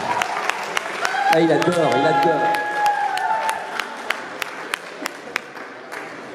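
Applause for Didier Foulon at a ceremony presenting new jerseys to the Gazelles team, with scattered, rhythmic claps and some crowd noise beneath someone speaking, thinning to isolated claps toward the end.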